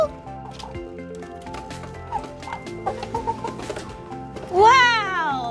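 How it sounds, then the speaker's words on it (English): Several chickens of different kinds cluck and murmur inside a coop amid other background sounds, closing with a louder, rising squawk-like call near the end. "There's so many different kinds of chickens in here."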